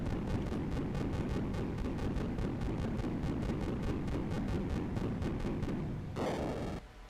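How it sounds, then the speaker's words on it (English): A massive final-boss explosion from Super Mario RPG: Legend of the Seven Stars roars in a dense, sustained rumble with rapid repeated blasts, then gives way to a brief bright chime before fading. "That was a pretty crazy explosion."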